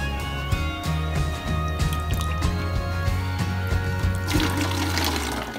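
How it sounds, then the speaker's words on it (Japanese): Homemade vegetable broth poured and ladled into a plastic PET bottle, giving a continuous close trickle and gurgle of liquid with small splashes and a brief rush of water near the end. "この野菜だしをこちらの道具を使ってペットボトルに移していきます。"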